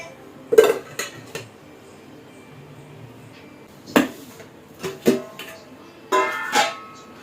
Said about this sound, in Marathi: चहा वगैरे झाल्यानंतर मला भांडे घासायचे आहे